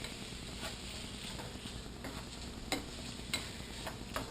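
Meat for a hot dog cheese steak cooks in a pan with a faint, steady sizzle and a few sharp clicks of a spatula stirring, low and close without talk.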